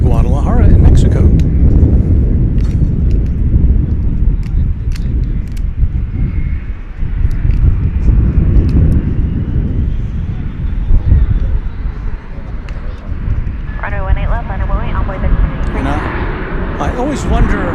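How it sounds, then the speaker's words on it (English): An Airbus A321 jet airliner on flight 4893 to Guadalajara roars at DFW Airport, a loud, continuous low rumble that fills the whole stretch while someone talks over it. "It's an Airbus A321, flight 4893. It is going to Guadalajara in Mexico."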